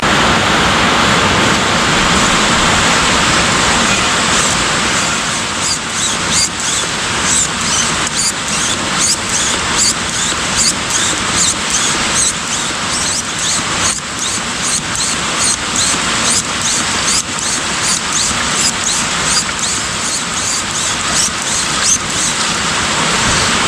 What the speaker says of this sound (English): Now I'm going to pump the oil out of the crankcase using this handy device.